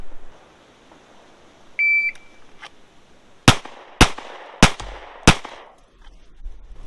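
A shooting range drill: one short electronic shot timer beep, then four sharp, loud gunshots spaced roughly half a second apart, each with a brief ringing decay, and no talking.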